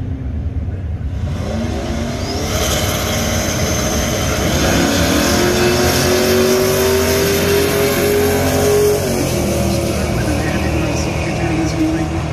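Camaro drag car launching at Atco drag strip during a drag racing event: a loud, sustained engine roar that builds and holds, with a rising whine, heard from nearby with crowd and commentary mixed underneath.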